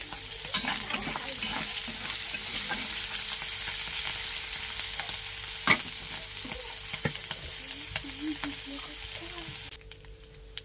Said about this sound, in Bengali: আগে চিংড়ি মাছটাকে আমি ভালো করে ভেজে নিচ্ছি